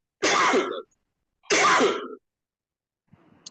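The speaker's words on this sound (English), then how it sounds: "Sorry for the cough." Two harsh coughs close to the microphone, about a second apart, followed by a faint rustle.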